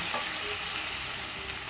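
Bitter gourd curry mixture with turmeric is stirred in a hot tempering pan, giving a continuous close sizzle and frying hiss that eases slightly toward the end, with no one talking.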